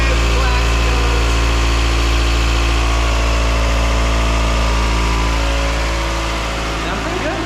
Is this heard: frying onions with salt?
no